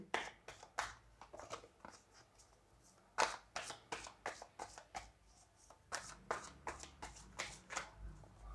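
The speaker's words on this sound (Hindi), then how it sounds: "ओशो ज़ेन से भी कुछ कार्ड लेंगे हम।" Tarot cards, including an Osho Zen deck, are shuffled by hand in a quiet room, giving a long series of soft, crisp riffling bursts in an irregular rhythm, close and fairly faint.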